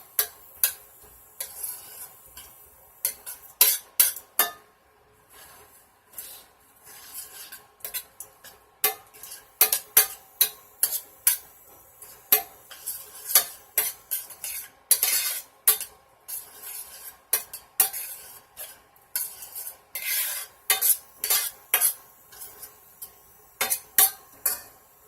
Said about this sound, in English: I'm gonna cook a little bit the onions.